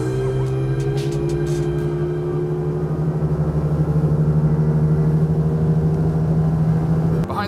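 A Starcraft Fishmaster 196 fishing boat running under outboard power, its motor holding a steady loud drone with a sustained tonal hum throughout, close and continuous.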